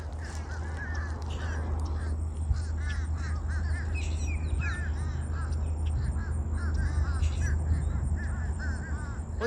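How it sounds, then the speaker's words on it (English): Several crows caw repeatedly at a distance amid other bird calls, over a low steady hum and occasional faint voices. "You can hear the birds."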